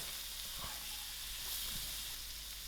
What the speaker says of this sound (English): allow this to fry for about 3 to 5 minutes